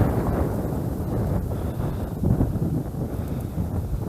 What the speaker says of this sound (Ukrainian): вроді би нема нема вітру і тут як задує такий.